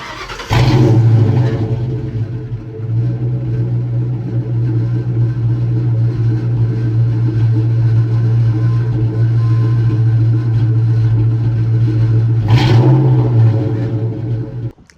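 A 2003 Mustang GT with a 4.6-liter V8 and a newly installed clutch cranks and fires up, then settles into a loud, steady idle. Near the end the engine gives a brief rev before it is shut off.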